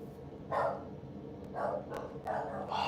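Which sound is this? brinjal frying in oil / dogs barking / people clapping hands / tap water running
dogs barking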